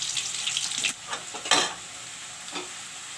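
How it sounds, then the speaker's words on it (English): Onions and red chili sizzle and crackle in hot oil, stirred with scraping spoon strokes that rise over a steady soft frying hiss, heard up close with no talking. "Now I will put in the onions and the red chili. Let the onions fry brown."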